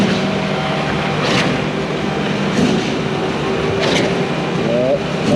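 A Putzmeister 56Z concrete pump truck runs at full volume with both pumps going, a loud steady mechanical roar with a low drone, faint tonal whines and periodic surges from the pumping cycle.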